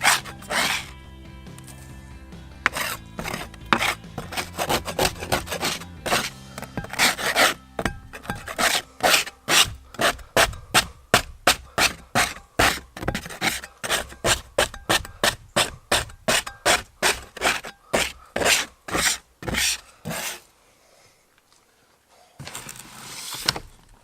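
A plastic scraper dragged over an old boat hull during restoration, scraping off old material in loud, close, rhythmic rasping strokes that speed up midway, then a short pause and one more pass.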